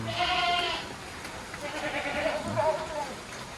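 Goats bleat on a goat and cattle farm, a loud close cry at the start followed by a couple of softer, more distant bleats over steady background noise.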